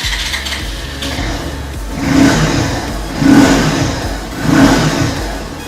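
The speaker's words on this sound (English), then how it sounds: "the bike is on, the key is not there, and the bike will also fire up" A motorcycle started without a key idles and is revved three times, each rise in engine pitch swelling and falling back, close and loud.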